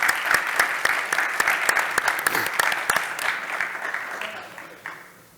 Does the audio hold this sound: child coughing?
no